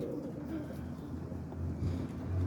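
Boston ripping roller pigeons coo softly in a loft during a heavy molt, low steady burbling calls repeating close by with no talk over them.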